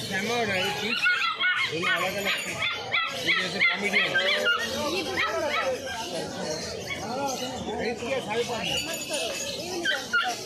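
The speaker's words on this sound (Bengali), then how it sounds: "জার্মান স্টিচ কিন্তু খুব কিউট একটা ডগ" Dogs at the Galiff Street pet market, including a German Spitz, give repeated whimpers, yips and short barks close by, mixed with people chatting in a busy market.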